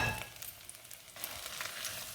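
Hot oil tempering with garlic and ginger sizzles and crackles steadily over Punjabi sarson ka saag, a bright hissing spatter with a few sharper pops, close by and without any voices.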